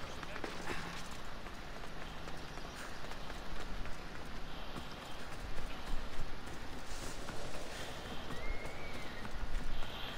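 Horse hooves galloping in Assassin's Creed Odyssey, a rapid, steady clip-clop running under a dense, busy game soundscape with constant background noise; no voices heard.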